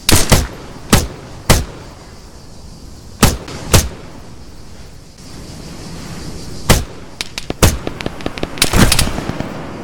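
Gunfire in the military shooter Arma 3: loud, sharp cracks ring out singly and in short clusters, spaced irregularly, then a quicker rattle of shots near the end, with no voices.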